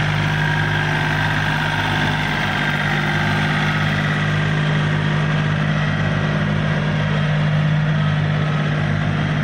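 A Yanmar 39-horsepower farm tractor engine runs at a steady idle, a continuous loud, even drone with a low rumble and no voices over it.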